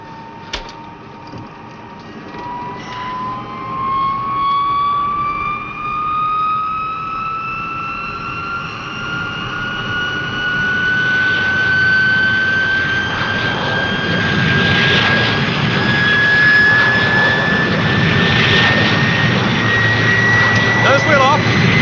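Airliner engines climb in pitch during a takeoff run, a steadily rising whine over a broad, swelling roar that grows louder toward the end, with faint voices underneath.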